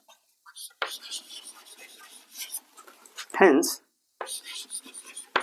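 Pen or chalk writing during a maths lesson, short close scratchy strokes in uneven bursts separated by brief pauses, with a soft vocal noise in the middle.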